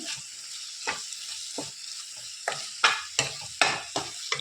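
Tomato rice masala with coriander powder fries in a pan while a spoon stirs it, giving a soft sizzle broken by repeated scraping strokes that grow more frequent toward the end, near and clear with no speech.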